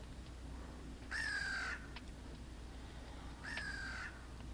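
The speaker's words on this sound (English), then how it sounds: "We got some crows that seem very unafraid of the scarecrow" Crows cawing in the Second Life virtual world near a scarecrow, two separate harsh caws spaced a couple of seconds apart over a quiet ambient hum.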